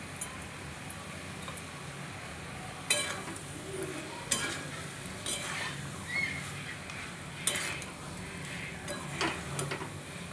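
Papaya and peas masala with tomato being stir-fried in a pan, a low continuous sizzle broken by several sharp spoon scrapes and taps against the pan, close by, no talk.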